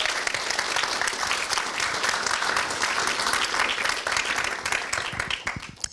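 Audience at a game-industry conference panel applauding and cheering for the panelists, a dense, steady wash of clapping that stays loud for several seconds before thinning slightly at the end.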